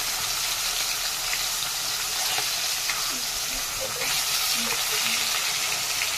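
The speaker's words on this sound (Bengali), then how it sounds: "মাছগুলো দেখো কত সুন্দর লাল লাল হয়ে এপিট ওপিট করে ভাজছি।" Hilsa fish pieces fry in hot oil in a wok over a clay stove on a rainy day, giving a constant close sizzle and crackle with occasional soft clinks as the pieces are turned.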